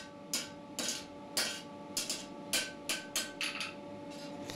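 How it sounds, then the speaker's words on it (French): A knifemaker's hammer flattens a steel knife blade in about ten sharp metallic strikes at a fairly regular pace, each blow ringing briefly over a quiet workshop background. "il va aplanir la lame avec des coups de marteau qui sont beaucoup moins prononcés qu'au début"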